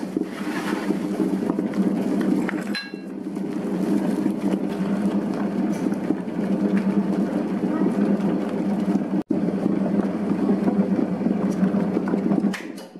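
Dough mixer machine kneading bread dough for steamed bread, a steady loud mechanical whir and rumble running throughout, with a brief dip near the start and a short break toward the end.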